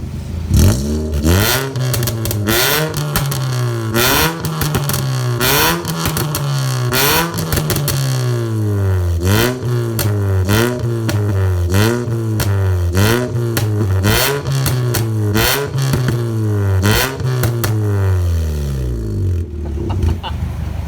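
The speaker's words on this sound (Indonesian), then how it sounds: "Tinggal kita cek suaranya. Dan ini mobilnya udah nyala." Car engine with a homemade blastpipe muffler fitted with a resonator, revved repeatedly in loud rising and falling bursts, close up and continuous, with brief voices between revs.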